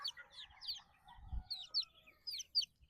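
Chicks on a farm on deworming day peep steadily in thin, high repeated calls, fairly faint, with a brief low thump in the middle.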